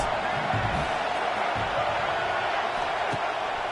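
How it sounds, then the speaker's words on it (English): Stadium crowd noise from the College Football 26 video game, in a Michigan Wolverines matchup, forms a steady, dense roar behind a play-by-play announcer's commentary. "Big third down as the crowd gets behind this defense."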